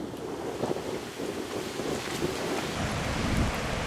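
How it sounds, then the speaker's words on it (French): Strong wind buffeting the microphone while cycling along the seaside coast near Peñíscola, Spain, a continuous rough roar with gusty swells and possible surf underneath, no voices. "Je ne sais pas si vous arrivez à entendre avec le vent"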